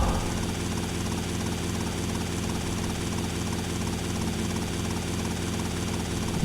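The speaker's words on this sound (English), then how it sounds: "for some reason Tommy Versace knows how to fly a helicopter" A helicopter in the video game GTA Vice City drones steadily and loudly, its rotor thrum and engine whine continuous and unchanging throughout.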